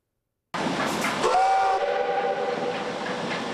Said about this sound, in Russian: старый паровоз уходит на запасной путь